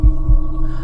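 A heavy, deep heartbeat thumps twice in quick succession over a steady low hum, close and loud, as a tense effect in a horror tale set at a metro station.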